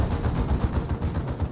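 Autocannon fire in the Dawn of War 2 strategy game, a dense, rapid rattle of loud repeated shots that continues without pause throughout.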